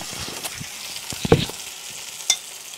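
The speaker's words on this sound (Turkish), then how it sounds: "Köfteye yumurtayı sürmüş de patlamış gitmiş" Egg-coated meatballs frying in a pan, giving a steady low sizzle with scattered sharp pops and crackles, heard close up with no talking.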